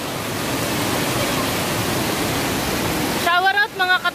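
Steady broadband roar of Malaguicay Falls in Abuyog, Leyte, a close, continuous rush of falling water that fills the clip, then drops away near the end as a person speaks.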